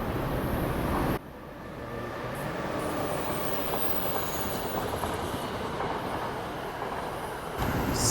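A train rolls past on a track right beside a gym, a loud, close, continuous rumble with rail clatter and faint wheel squeal that holds steady throughout.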